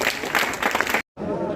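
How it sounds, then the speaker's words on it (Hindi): A short burst of crowd applause, dense clapping that abruptly cuts out, then resumes with a voice talking over it. "जोरदार ताली बजाइए"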